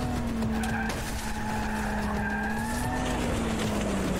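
A car in the video game Cyberpunk 2077 drives hard with a loud, sustained tire squeal and skid over a steady engine roar, close and continuous with no talking.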